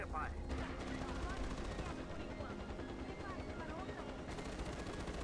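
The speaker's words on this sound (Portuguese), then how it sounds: "Acho que é helicóptero que tá voando no bagulho." A helicopter in the Far Cry 4 video game drones steadily and fairly faintly through the whole stretch, mixed with rapid gunfire-like rattling.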